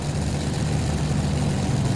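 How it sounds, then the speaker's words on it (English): A tractor engine at a 1993 tractor pull: a loud, steady low drone of a heavy engine running continuously, close and without talk. "He's really going to have that tractor hooked up."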